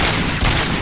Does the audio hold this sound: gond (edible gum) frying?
no